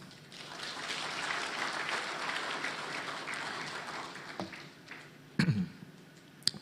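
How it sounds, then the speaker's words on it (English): Applause from a water and wastewater conference audience, a broad wash of clapping that fades out toward the end, followed by a few isolated thumps and a cough-like sound. "A round of applause."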